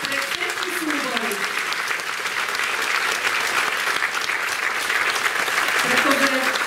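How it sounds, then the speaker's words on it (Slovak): Large crowd applauding steadily at a university folk festival awards ceremony, a dense continuous clatter of clapping with a voice speaking over it briefly. "Poprosím veľký potlesk pre všetkých ostatných, pre všetky súbory."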